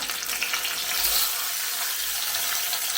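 Chopped tomatoes hit hot oil in a pan, with a loud, close, hissing sizzle and crackle that carries steadily through the short moment, and no voices.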